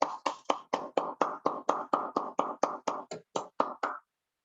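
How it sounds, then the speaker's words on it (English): Applause at a hybrid Toastmasters club meeting, a rhythmic run of about sixteen sharp claps, close and fairly loud, then stopping abruptly into silence. "let us give him a thunderous round of applause."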